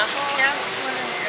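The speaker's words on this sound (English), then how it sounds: "So it's raining." Steady rain falls on an outdoor festival market, a dense, even hiss of drops on tents and surfaces, close and continuous throughout.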